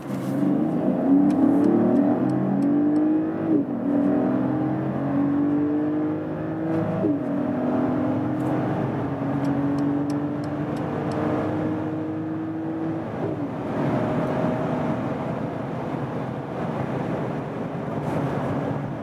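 A Mercedes GLE 450 SUV's six-cylinder engine revs hard in Sports Plus mode and climbs through several gears toward 200 km/h, the pitch rising, dropping at each shift, then rising again, loud and steady with wind noise.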